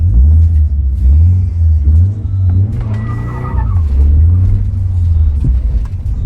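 A car roars loudly throughout a burnout on pavement, its engine revving with a steady deep drone that rises and dips, with tire squeal and rumble mixed in at close range.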